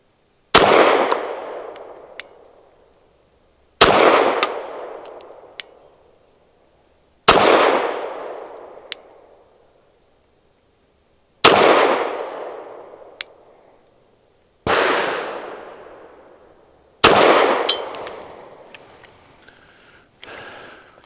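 Adler Arms AD 9 pistol fired at 7 yards, six loud sharp shots spaced a few seconds apart, each ringing out and decaying, with a faint extra crack after some.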